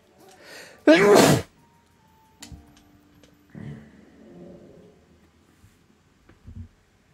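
A single sharp, loud sneeze bursts out about a second in, surrounded by quiet room tone and a few faint background clicks and short game sounds.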